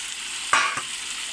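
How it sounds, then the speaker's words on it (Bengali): Fried potatoes and pointed gourd dropped into sizzling spice paste in a pan, a sharp burst of frying hiss at the addition followed by a second smaller scrape, then a steady low sizzle. "এবার দিয়ে দিচ্ছি ভেজে রাখা আলু আর পটল।"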